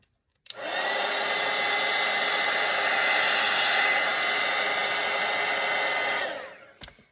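A hair dryer switches on and blows steadily to dry a fresh watercolor painting layer, a loud, close, even whoosh for about six seconds before cutting off, followed by a couple of small clicks.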